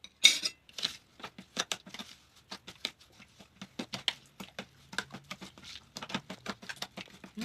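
Cake batter with three eggs mixed gently by hand in a bowl, giving a steady run of quick, soft wet taps and slaps close by, each stroke short and evenly spaced.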